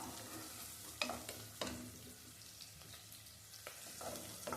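Onion, garlic and green chilli sauté quietly in a pan, a soft low sizzle broken by several sharp scrapes and knocks of a spoon stirring against the metal.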